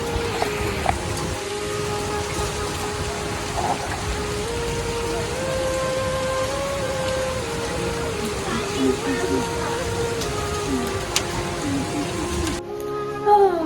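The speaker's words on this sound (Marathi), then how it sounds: "पाऊस पडतोय." Steady rain falls outdoors as a continuous broad hiss of drops on surfaces, fairly loud and close, with a voice speaking over it throughout.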